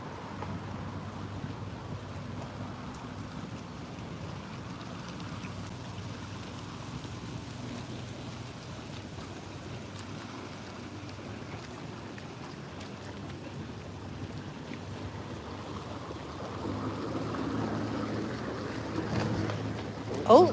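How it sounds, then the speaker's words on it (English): A boat passes on a river at Ludham on the Norfolk Broads, a low, steady engine rumble with wind noise that swells slightly near the end. "Nice boat coming."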